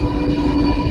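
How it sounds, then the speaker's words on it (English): A freight train passes close by, producing a steady, loud rumble of rolling railcars that holds without a break, and no voices are heard. "Now, Freight train."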